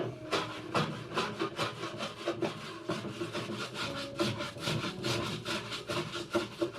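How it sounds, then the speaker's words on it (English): Hand plane shaving down the sides of wooden dovetails on a large ground-level cabinet, a steady series of close, rasping wood strokes repeating in quick rhythm throughout. "I've got to go through the process of just planing off the side of the dovetails to level it all out"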